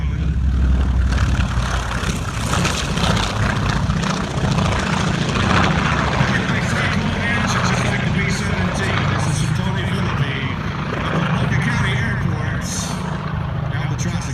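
A Grumman HU-16 Albatross propeller seaplane flies past at an air show, its loud droning engines sustained throughout while a commentator talks.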